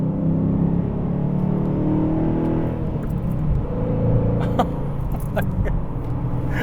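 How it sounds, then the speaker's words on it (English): A 2021 Dodge Challenger R/T with a Hemi V8 accelerates in a steady, loud, deep engine roar that swells and rumbles for several seconds, heard up close with no talking. "I'll give it gas right now. Listen to that."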